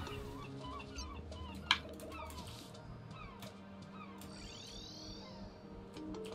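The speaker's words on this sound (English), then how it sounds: "Oh my god, these seagull noises!" Seagull cries sound inside a video game, a run of faint chirps and squawks over quiet game background sound, with no talking.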